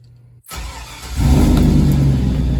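A 2001 Chevrolet Silverado engine cranks briefly, catches and settles into a loud, steady idle close by, after a short quiet lead-in; no one speaks.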